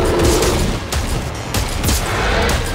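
Sniper rifle shots fired in Dead Space 3, a few sharp, loud blasts standing out from a dense backdrop of other gunfire and explosions, with no speech.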